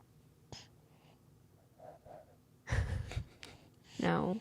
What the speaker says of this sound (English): You can hear her breathing into it